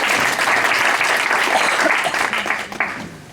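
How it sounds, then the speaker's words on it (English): Audience applause at a French public forum on mayors and governance, dense clapping from a seated crowd throughout, loud and close, thinning slightly toward the end. "on peut déjà vous applaudir aussi."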